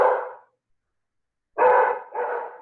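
A dog barks nearby, one short bark followed after a pause by a quick pair of loud barks, with no talking over them.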